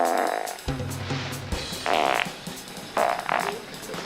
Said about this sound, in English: And farts. Really, really great farts.